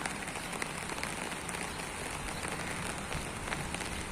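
Dense, steady rain patters on a surface, a continuous hiss of drops with no voices.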